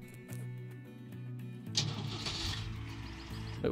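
An excavator engine in the mining video game Gold Rush cranks and catches, a low idle giving way to a louder, rougher running rumble partway through.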